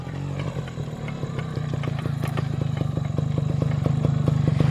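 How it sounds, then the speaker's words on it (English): A Yamaha RX 135 two-stroke motorcycle rides up in the woods at sunset, its engine putting out a rapid pulsing beat that grows louder and more insistent as it draws near. "you can see Arun is coming with the motorcycle"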